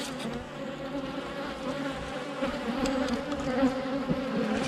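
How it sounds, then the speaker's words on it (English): A dense, continuous hum of many honey bees buzzing together in a hive, close and fairly loud, with no voices. "in a hive like this, we have one queen, thousands of worker bees, and a few hundred male drone bees"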